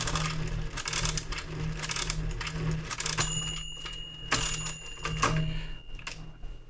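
A Brunsviga 13ZK mechanical calculator is cranked for subtraction, giving rapid metallic clicks and ratcheting clatter with a few sharper dings and clunks as the carriage is stepped, all close and without talk.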